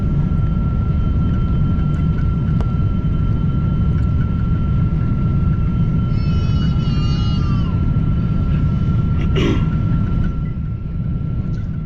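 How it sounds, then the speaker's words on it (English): Loud, steady airliner cabin roar on approach and landing at Tampa, a continuous broadband engine and airflow rumble with a thin whine and a brief chirping tone partway through, no one talking. "We are now landing on Tampa's runway 19 right."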